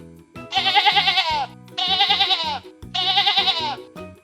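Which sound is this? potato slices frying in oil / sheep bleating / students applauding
sheep bleating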